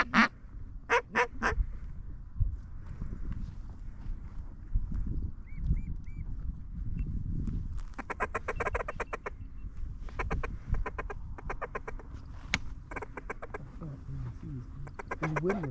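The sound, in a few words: ducks calling, mallards and widgeon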